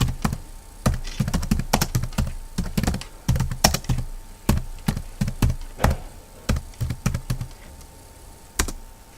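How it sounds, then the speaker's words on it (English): Keys clatter on a computer keyboard as a terminal command is typed, with loud, close bursts of clicks broken by short pauses and a final lone keystroke. "using the terminal, type the following command,"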